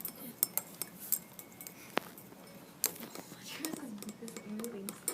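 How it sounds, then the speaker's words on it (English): A spoon stirs a lemonade-like mixture with probes in it, giving light, scattered clinks against the container, quiet and close, with soft voices murmuring in the background. "So if you look at them, I think if you stir, and I'm going to stir."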